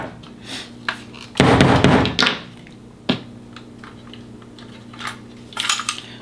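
Staples clicking and snapping into a Milwaukee M12 cable stapler, with a loud rattling burst of plastic and metal handling followed by sparse sharp taps and clicks, close up with no talking.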